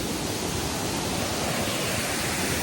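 Sirimane waterfall in Agumbe roars as a steady, dense wash of falling water, loud and close throughout with no other sounds.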